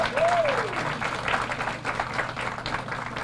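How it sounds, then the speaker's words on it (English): An audience applauds graduates at a ceremony, steady full clapping from a crowd with a brief whoop near the start, continuing evenly throughout. "So let's give them one more round of applause."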